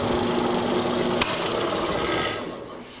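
A drill press with a mortising auger bit boring into wood gives a loud, steady grinding rasp that holds for about two seconds and then fades as the cut ends.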